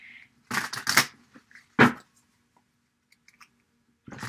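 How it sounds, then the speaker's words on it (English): Tarot cards being shuffled in a few short, quiet bursts of papery riffling and clatter, separated by near-silent pauses. "I'm going to shuffle a couple times."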